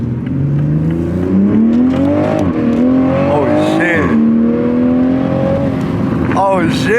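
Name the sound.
Toyota Supra engine accelerating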